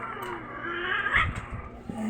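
A cat gives a drawn-out, wavering caterwaul that rises and falls in pitch, heard at moderate distance over a steady background hiss.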